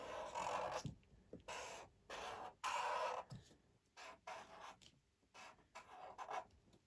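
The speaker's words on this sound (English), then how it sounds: "Oh, I could draw her." A pen scratching out a drawing of Little Red Riding Hood on paper, close and quiet, in short strokes of varying length separated by brief pauses.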